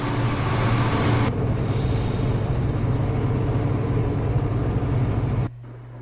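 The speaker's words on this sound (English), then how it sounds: "Just to get those wonderful EMD 643 sounds." A steady, heavy EMD 643 diesel locomotive engine in a train simulator game drones continuously at a low pitch with a constant rumble on a steep uphill grade, loud and close, ending abruptly with a quieter hum.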